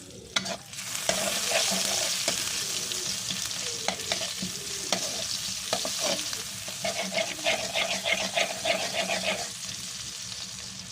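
Onions frying in mustard oil in a wok, a steady close sizzle with occasional stirring scrapes running throughout, no voices.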